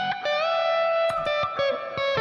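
Electric guitar lead lines outlining the chord tones over a chord progression, with sustained bright notes bending and shifting between repeated picked attacks, played steadily with effects and reverb and no voices.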